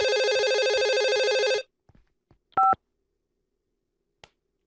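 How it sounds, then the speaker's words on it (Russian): A phone rings in a crime-city video game: a loud, buzzing electronic ring pulses rapidly for about a second and a half, then stops, followed by a few soft clicks and a short bright beep. "Я еще не успел отойти, мне уже звонят"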